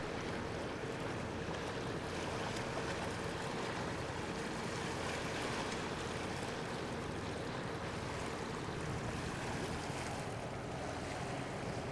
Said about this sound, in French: Il me semble que ce remorqueur, lui il va faire beaucoup plus de vagues.